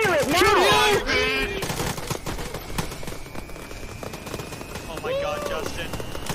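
Gunfire from a weapon in the Arma military video game, a burst of loud, close shots under excited shouting voices that talk throughout.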